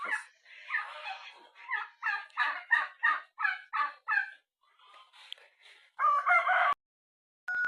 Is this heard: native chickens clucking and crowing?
yes